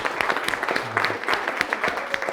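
Wedding guests clap together in a short burst of steady applause that fills a reception room, with a brief voice beneath it.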